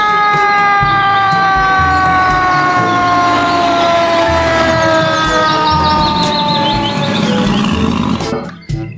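A toy fire truck's electronic siren wails loudly and close with rising and falling tones, joined by a rumbling engine-like roar. It cuts off abruptly near the end, and there is no talking.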